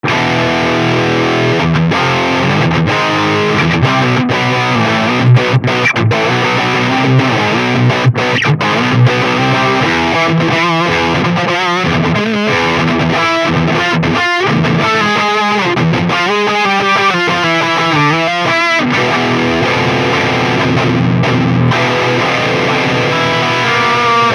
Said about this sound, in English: For a distortion tone, I think that's really convincing.